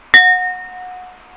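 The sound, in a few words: glass struck, ringing ding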